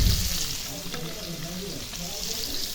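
Pre-boiled chicken sizzling in hot oil in a home kitchen, with continuous crackling fry noise and light stirring scrapes, close and steady.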